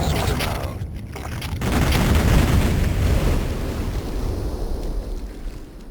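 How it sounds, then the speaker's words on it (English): Explosions rumble along the cliffside in the Lunar Reactor level of Duke Nukem 3D, a loud, continuous deep roar with rolling booms and no talking. "to the cliffside explosions"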